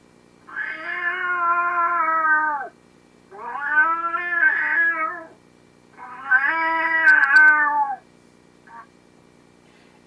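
A predator call imitating a bobcat in heat gives three long, wavering, yowling cries, each about two seconds long with short gaps between them. The call is loud, close and heard alone.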